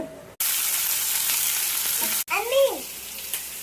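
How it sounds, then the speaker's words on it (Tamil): Ingredients for paneer masala frying on a slow flame, a close steady sizzle that breaks off briefly, then resumes under a short spoken voice. "ஸ்லோ ஃப்ளேம்ல வறுத்துக்கோங்க"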